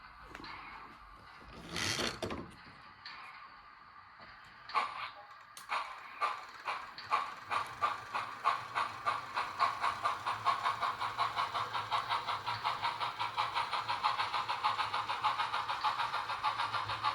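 Broadway Limited Imports HO scale Southern Pacific GS4 model steam locomotive in service black pulls a load along the track, a sharp burst giving way to rhythmic chuffing that quickens into a steady rapid beat, fairly quiet and with no talking.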